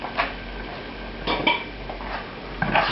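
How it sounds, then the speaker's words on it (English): A utensil scrapes and clinks across a pan as it is deglazed with sherry after searing scallops, loosening the browned bits, in short close metallic strokes over a steady hiss. "It's going to be deglazed with some sherry."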